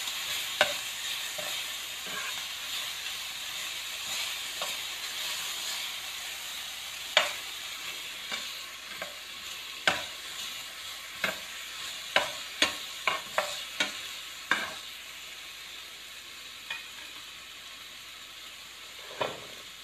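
A generous amount of ginger frying in a pan for pinapaitan, a Filipino beef offal dish, with a soft steady sizzle under a long series of sharp spatula taps and scrapes that grow more frequent midway.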